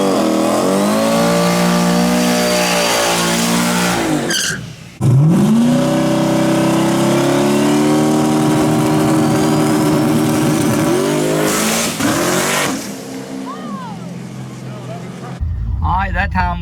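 A car fitted with a new turbo, running about 10 pounds of boost, revs and accelerates hard down a drag strip. The engine stays loud and close the whole time, rising steadily in pitch with a brief dip and shift around the five-second mark.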